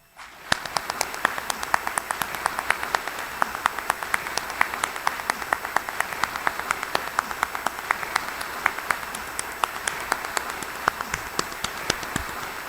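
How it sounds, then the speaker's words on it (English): An audience at the Oshkosh State of the City 2023 event applauds city employees, sustained moderate clapping from a crowd that continues evenly throughout. "you got better applause than I did when I came up"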